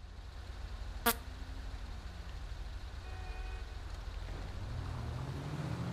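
A car horn gives one short honk in the video game GTA, clear over a low steady engine rumble, followed later by a faint tonal honk.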